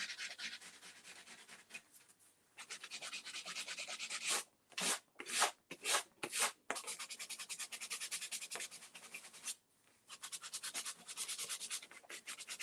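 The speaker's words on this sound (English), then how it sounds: "I'm having a sanding sponge here from Surf Prep, which I quite like using" A medium Surf Prep sanding sponge scuffs a surface in quick, close rubbing strokes, first in long steady passes, then in a burst of short separate strokes, before long passes resume.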